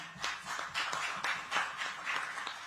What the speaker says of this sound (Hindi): एक बार चाहूंगी कि जोरदार तालियां।